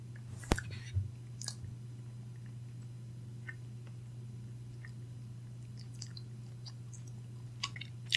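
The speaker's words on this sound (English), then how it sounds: "I think what I do need to do is go for a smaller bite here." Someone chews a small bite of a prison-style dish of chicken-flavored ramen noodles and sausage: faint, close, wet chewing clicks and squishes spread irregularly over several seconds against a low steady hum.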